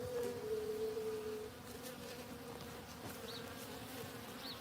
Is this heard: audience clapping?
no